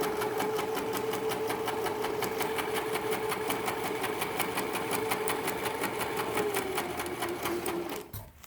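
Close by, a sewing machine runs a crazy quilt seam in one long continuous burst of rapid, regular stitching that stops abruptly at the end, with no talking over it.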